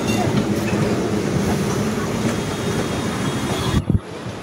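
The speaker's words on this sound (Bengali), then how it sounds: "ট্রাম যাচ্ছে" A tram rumbles past on College Street in Kolkata, a broad, close, continuous roar with wind buffeting the microphone, ending in a couple of sharp knocks before it cuts off.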